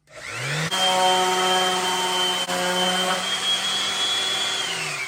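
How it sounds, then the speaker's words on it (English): An electric orbital sander with a vacuum attachment spins up to a loud, steady whine and keeps running evenly close by. "This is an electric orbital sander with a vacuum attachment."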